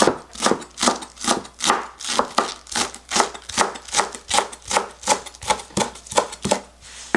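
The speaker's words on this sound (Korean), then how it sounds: "대파를 조금 썰어줄게요" A knife chops a small green onion (daepa) on a board for quick kimchi, about twenty crisp, evenly spaced strikes in a steady close rhythm, with no talking.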